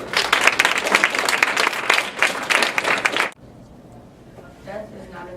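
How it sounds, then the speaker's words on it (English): A small group applauding a student speaker, dense clapping for about three seconds that stops abruptly, followed by quiet room noise and faint talk. "Claps for Mark."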